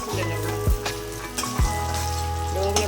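Eggplant frying in hot oil, a constant crackling sizzle with a few sharp clinks and scrapes of a utensil at irregular moments, close and moderately loud.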